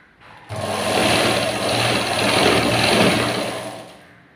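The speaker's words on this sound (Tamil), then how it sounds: "நல்ல பக்கம் மேல தெரியுற மாதிரி வச்சு தைக்கணும்" A sewing machine runs steadily for about four seconds, stitching a fabric band with the right side facing up, its motor hum loud and close, starting abruptly and tapering off at the end with no talking.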